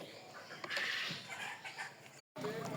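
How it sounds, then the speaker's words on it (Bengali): Farm birds, Chinese ducks among them, cluck and chatter steadily while eating feed in the morning. The noisy flock sound breaks off briefly near the end and then resumes. "পাখিগুলোকে খেতে দিয়ে দিয়েছি, এখন ওরা খাচ্ছে।"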